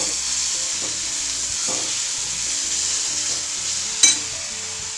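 A paste of green chilli, ginger and garlic frying over medium heat sizzles in a steady close hiss, with a few soft stirring scrapes and one sharp clink near the end.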